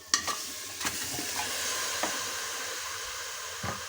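Mutton goes into a hot pressure cooker on a stove, setting off a continuous loud sizzle broken by a few sharp clatters and knocks from the pot.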